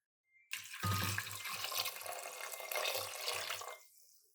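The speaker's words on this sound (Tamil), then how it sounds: "இதில் 1 சொம்பு தண்ணி ஊற்ற போகிறோம்." Water from a vessel is poured into a pot of lentil curry with grated coconut, a steady, close splashing gush lasting about three seconds with gurgling low pulses, then stopping.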